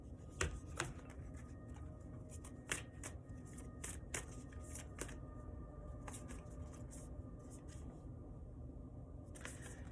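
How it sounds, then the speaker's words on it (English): Tarot cards being shuffled by hand to pull an inspiration card, soft repeated riffling and snapping bursts over a low background rumble, close and fairly quiet, with no talking. "I'm going to pull an inspiration card for you guys"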